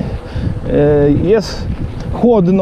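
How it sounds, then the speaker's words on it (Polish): Strong wind roars and buffets the microphone in a steady rush while a person talks over it close by, on an empty road at the edge of Brwinów, Poland, during a mountain bike ride. "wieje straszny wiatr"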